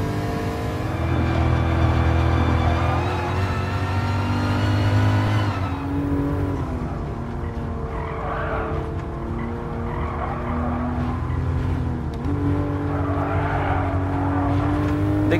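A racing car in Gran Turismo Sport revs loud and steady, shifting gears with drops in engine pitch as its tires squeal through corners, heard alone without talk.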